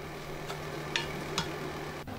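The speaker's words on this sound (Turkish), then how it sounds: "Şimdi doğramış olduğum yeşil biberleri de ilave ediyorum. Bunları da kısa bir süre kavuruyorum." Chopped green peppers sauté in a pan for hünkar beğendi, a faint steady sizzle with a few soft stirring clinks over a low background hum.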